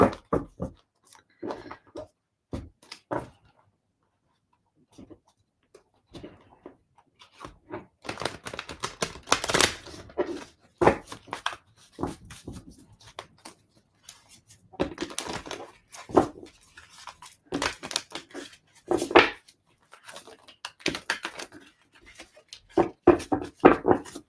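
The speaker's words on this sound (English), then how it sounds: "Let's give it a good shuffle" A Lightseers tarot card deck being shuffled by hand, irregular bursts of crisp riffling and tapping, close and fairly quiet, with brief pauses between flurries.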